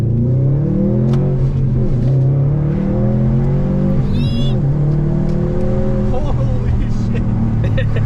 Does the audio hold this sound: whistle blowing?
no